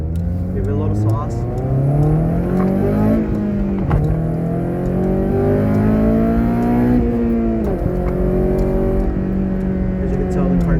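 A used car being test-driven accelerates steadily, its engine note climbing, dropping as it shifts, and climbing again through several gears, loud and continuous from inside the cabin.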